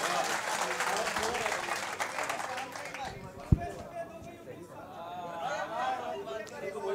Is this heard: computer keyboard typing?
no